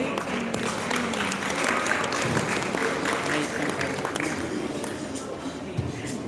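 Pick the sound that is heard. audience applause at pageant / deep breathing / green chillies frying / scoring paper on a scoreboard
audience applause at pageant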